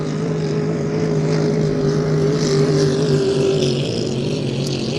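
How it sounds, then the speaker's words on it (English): A 5-litre class racing motorboat engine roars past at high revs, loud and steady with a high-pitched whine that shifts slightly as it goes by. "And here comes the Still Call Me In boat, Brian Perkins."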